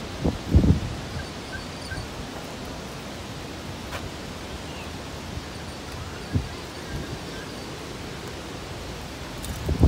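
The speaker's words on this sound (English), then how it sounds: "It is getting windy." Steady wind hisses through rustling leaves, a broad continuous wash of noise with a couple of brief knocks near the start.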